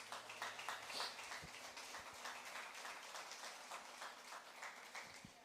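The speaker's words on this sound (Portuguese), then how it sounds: "Pode aplaudir a Jesus." A church congregation claps together in a steady, moderately distant round of applause that fills the whole stretch without talking.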